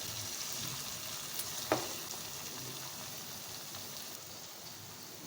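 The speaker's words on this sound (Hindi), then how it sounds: "इन तमाम चीज़ों को हम मीडियम फ्लेम पे भूनेंगे 1 से 2 मिनट के लिए अच्छी तरह।" Chicken with spices browning in a karahi over a medium flame, giving a soft, steady sizzle with one sharp clink of a utensil partway through.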